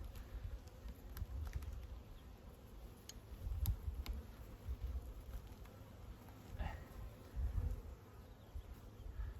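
Honeybees buzz in a low, continuous drone that swells and fades in a hive without a queen, with faint clicks and ticks scattered through it and no speech.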